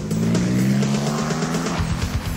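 A rally car pulls away after being restarted on a gravel forest stage, its engine revving hard and loud up close before dropping into a lower, pulsing rumble as it drives off.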